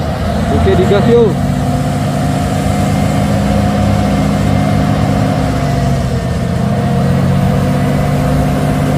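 A truck trailer's heavy diesel engine rumbles loudly and close, holding a low droning roar with a slight rise in revs, while people talk nearby over the engine.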